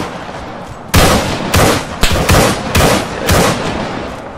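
Gunfire in the survival video game DayZ: a burst of loud, close shots starting about a second in, then several more sharp reports in a fairly regular rhythm, each trailing into a short echo.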